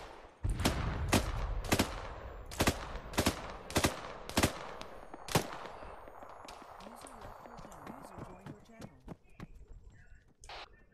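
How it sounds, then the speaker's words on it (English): Heavy cannon and gunfire in a military video game, a series of sharp, loud blasts at irregular intervals followed by quieter rattling shots and background noise, with voices talking over parts of it. "I can hear something like a heavy cannon to the north."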